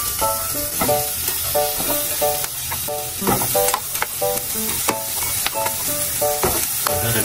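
Goat meat sautéing in a pan for kalderetang kambing, a loud close sizzle with rhythmic metallic scrapes and clinks as it is repeatedly stirred.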